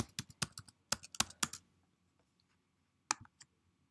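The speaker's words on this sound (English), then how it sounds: "I will type in my information" Quiet clicking of a computer keyboard as account login details are typed: a quick run of keystrokes, a pause, then a few more taps, close and alone.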